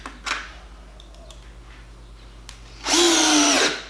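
A Bosch Professional 12V drill drives a 50 mm chipboard screw, whirring loudly and close for under a second after a few faint clicks and a quiet, humming stretch.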